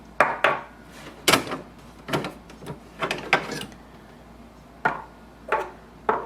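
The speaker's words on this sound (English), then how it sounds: "Press the ink cartridge down and simply take it out." An HP ENVY Inspire printer ink cartridge being pressed down and pulled out, a run of sharp plastic clicks and knocks, close and irregular, with short quiet gaps between them.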